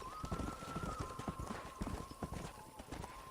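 Horse hooves clip-clop in steady, quick succession in the Red Dead Redemption video game, with a sustained tone running under the hoofbeats and occasional voices in the mix.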